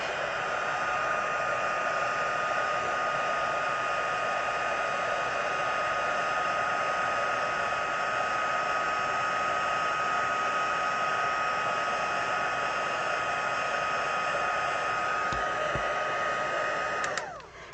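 A heat embossing tool blows a steady, loud rush of hot air continuously with a whining motor tone, cutting off abruptly at the end.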